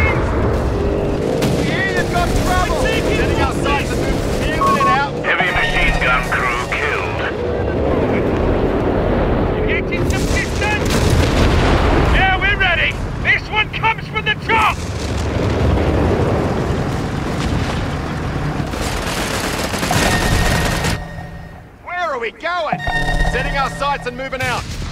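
Heavy machine gun fire in the Company of Heroes 3 strategy game, loud sustained bursts and booming explosions filling a chaotic battlefield, with voiced unit callouts talking over the din.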